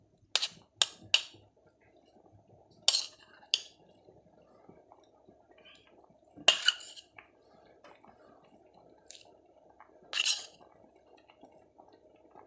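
Minced pork going into a pot for Thai rice porridge: scattered close clinks of a utensil on metal and soft wet squishing taps, spaced out with quiet pauses between them.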